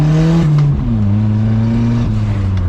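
Turbocharged Nissan D21 pickup with a 3-inch stainless exhaust revving close by, a loud, steady deep drone whose pitch dips and climbs again as the throttle shifts, with no talk over it.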